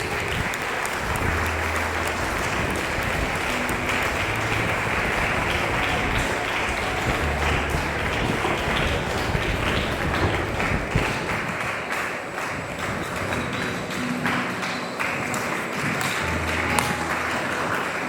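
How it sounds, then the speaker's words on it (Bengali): Loud, sustained applause and clapping from students fills the whole stretch at a Labour Day function, steady and dense from start to end with no break. "একটা জোরে হাততালি হয়ে যাক"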